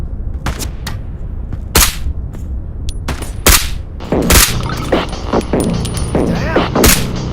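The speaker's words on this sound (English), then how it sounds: "I see bullets flying." Gunshots and bursts of gunfire in a VR shooter game, sharp cracks scattered irregularly across the stretch, some loud and close, others fainter, over a busy game background.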